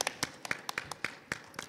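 Scattered hand claps from a small forum audience welcoming a speaker, a dozen or so sharp claps spread unevenly over under two seconds, thin and sparse rather than a full ovation.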